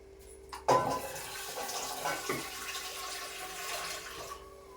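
Water poured into a pan of boiled peas and cooked spice masala for ghugni: a sudden splash, then a continuous rushing pour lasting several seconds.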